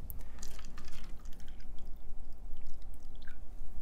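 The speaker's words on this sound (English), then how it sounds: "I'm going to place warm water." Warm water is poured into a cup, a close, continuous splashing trickle with small drips, heard without talk for a few seconds.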